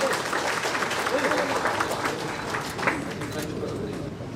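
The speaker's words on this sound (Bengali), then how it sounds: "আমি আমন্ত্রিত অতিথিবৃন্দ যারা আছে দর্শক গ্যালারিতে সকলের কাছ থেকে জোরে করতালি প্রত্যাশা করছি।" Audience applause at the inauguration of the Agrabad bank branch, a dense continuous burst of clapping from a sizeable crowd, fairly close and steady for several seconds.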